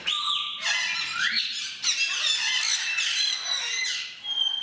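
Several conure parrots squawk and screech loudly and nearly nonstop, shrill overlapping calls close by in an echoing room.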